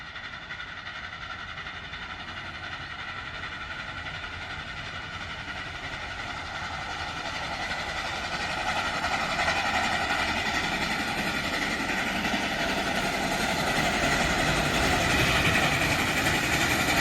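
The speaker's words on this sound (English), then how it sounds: "A steam train running through Ottawa at the crack of dawn" A steam train running through Ottawa at dawn, a steady broadband rumble and hiss that grows gradually louder and nearer over the whole stretch, with no voices.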